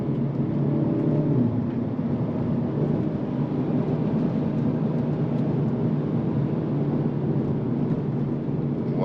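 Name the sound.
2022 Hyundai Elantra N driving through turns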